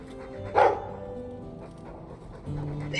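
Mabari war dog in Dragon Age II panting softly, with a brief louder huff near the start and a rise again at the end, faint and close against a quiet game background.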